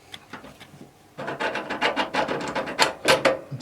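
A motorcycle rear brake pedal is worked over a spacer bar at the centre stand bracket, giving close scraping, rubbing metal clicks after a quieter opening, in irregular pushes with no talking.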